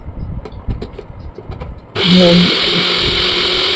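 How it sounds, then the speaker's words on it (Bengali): An electric mixer grinder starts up abruptly and whirs steadily while grinding soaked lentils for dahi vada, loud and close, after a stretch of quieter kitchen sounds. "বেটে নিচ্ছি, তো এইভাবে আমার সবগুলো ভাগে ভাগে করে ডালটা বেটে নেবো"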